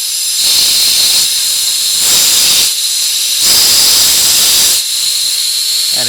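A blow gun on a CO2 tank setup releases loud, close bursts of hissing gas, about four long blasts separated by brief pauses, with no talking.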